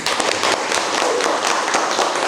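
Classroom applause for a student's question in an Islamic studies lesson, a burst of quick, uneven clapping from students throughout, close and moderately loud.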